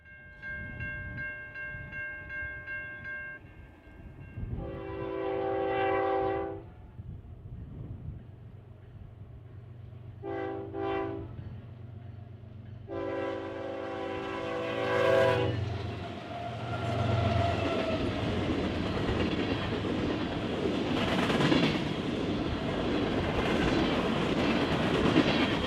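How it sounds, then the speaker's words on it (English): An eastbound BNSF grain train of brown hopper cars passes on a busy freight main line, sounding its horn in several loud sustained blasts, with the low rumble and rattle of the cars building and continuing after the horn stops. "an eastbound BNSF grain train comes into view"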